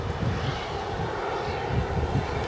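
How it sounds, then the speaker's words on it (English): A Qatar Airways Airbus A350 at Edinburgh airport produces a low, moderately loud engine rumble that swells and fades slightly, mixed with gusty wind noise. "So that is our finale heavy, the Qatar Airways A350"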